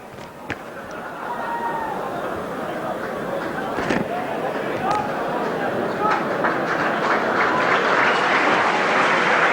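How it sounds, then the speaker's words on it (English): A rugby league crowd at a St Helens versus Leeds match applauds and chants for a departing player, a broad stadium roar with rhythmic chant swells building steadily under a commentator's voice. "A sympathetic round of applause as Phil Vevers, well, you can hear the chant of Vevers, Vevers"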